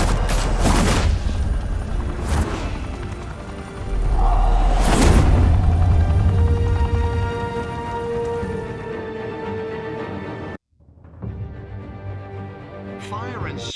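Bursts of gunfire and heavy booms ring out in the Batman: The Telltale Series video game, a fusillade of shots against a mafia crew in Gotham, loud and repeated over the first half, then fading into a lower rumble with a voice heard.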